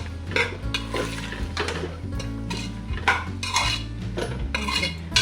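Vegetables for white pulao are stirred in a pot, a metal spoon scraping and clanking against the sides in a quick, repeated rhythm over a light frying hiss, close and clear.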